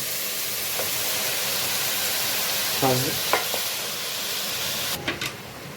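Yellow, green and red capsicums stir-fried with tomato puree sizzle steadily in a pan, with a few spatula scrapes and clinks over the continuous hiss.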